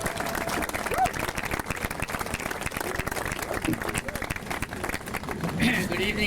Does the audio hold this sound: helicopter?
no